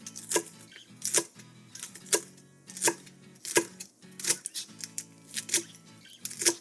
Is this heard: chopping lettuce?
yes